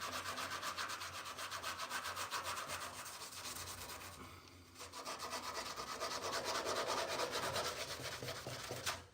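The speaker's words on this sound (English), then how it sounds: "I'm removing that with chemical and abrasive to bring back this original white paint" Steady abrasive scrubbing across a painted panel to strip old coatings from 56-year-old original white paint, a continuous close rasping rub with a brief pause midway, no voices.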